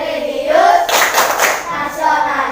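A class claps along during the PPK clap routine. Bursts of hand clapping run under and between children's chanting voices, loud and close, in a lively rhythm.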